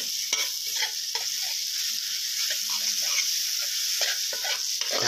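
Salt sizzles steadily in a little hot oil in a pan over medium heat, with a spatula scraping and stirring through it at close range.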